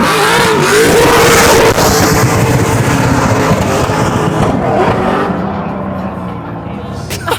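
A loud tuned car with an LS engine roars and revs close by, a deep throaty rumble that swells and then slowly fades as it pulls away.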